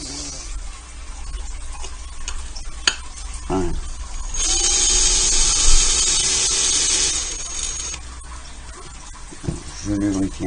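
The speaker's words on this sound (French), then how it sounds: "donc maintenant on va procéder au perçage" An electric drill bores a pilot hole into a pane of glass, a steady high whine lasting several seconds in the middle, with a person talking before and after it.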